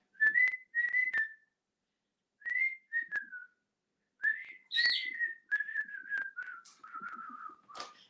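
Pet cockatiels whistle a tune in clear, melodic phrases, with short bursts separated by brief pauses and a longer run of notes near the end, with no talking.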